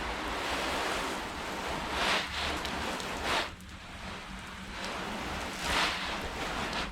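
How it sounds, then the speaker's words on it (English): Water rushes and hisses steadily off a car body treated with 303 Graphene Nano Spray Coating, a continuous broadband wash with a few louder surges, close by and with no voices. "Let's see how it sheets water."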